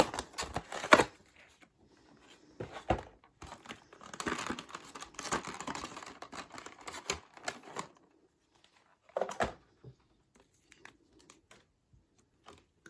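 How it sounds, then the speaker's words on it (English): Irregular scraping and rubbing bursts of a leg rubbing against a table, close and fairly soft, with rustling stretches and pauses between them; no talking. "that noise you hear is just my leg rubbing against the table"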